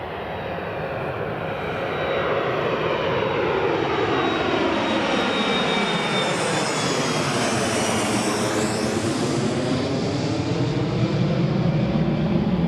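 Airplane engines roar near a runway at Newcastle International Airport, a loud sustained drone with a sweeping Doppler shift as the aircraft passes close by, steady and unbroken throughout.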